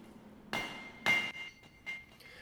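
Hammer blows ring out on a small Vevor anvil while chisels are forged, three sharp metallic strikes with a bright ringing tone, then a lighter tap, spaced about half a second apart and heard up close.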